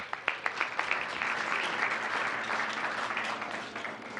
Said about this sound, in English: Let's give Group 3 a big round of applause.